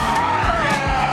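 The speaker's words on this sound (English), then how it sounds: "M&M spun into turn 2 with me running for cover" A race car spins out into a turn during a three-hour endurance race, tires skidding and squealing over a loud engine roar, close and brief.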